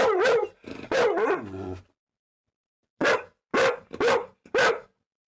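Pet dogs bark loudly and close up in two bursts, first a run of three or four quick barks with a whiny edge, then after a pause four more sharp barks in a steady rhythm.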